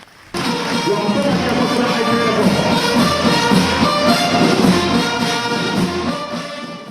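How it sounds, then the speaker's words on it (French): Loud, sustained applause from young graduates at a vocational training ceremony attended by the head of state in Mali, a dense crowd clapping that starts abruptly and continues steadily throughout. "Des applaudissements nourris des jeunes diplômés"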